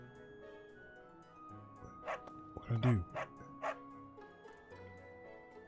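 A dog in the Fire Emblem: Three Houses video game barks a few short yips under a man's quiet speech, set against soft game background music.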